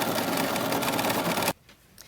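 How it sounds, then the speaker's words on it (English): A sewing machine stitches quilting down the border of a Kimberbell table topper, a fast steady whirring drone that runs loud and close for about a second and a half before stopping abruptly. "Now I'm going to let the machine do the quilting down the center"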